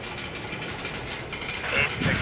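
A Norfolk Southern rail train rolls along the tracks with a steady broadband rumble and hiss that swells slightly toward the end.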